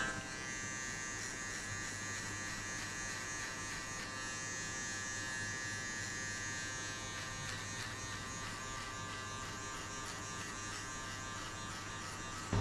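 An electric hair clipper, opened to the 1.5 setting, cuts short sides and back in a barber-style haircut, making a steady, close buzzing hum that runs unbroken throughout with no talking.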